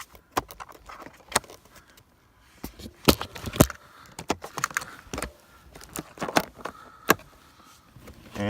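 An M1 electric skateboard part clicks into place with a string of sharp, close plastic-and-metal clicks and rattles, irregular and fairly loud, with no talking.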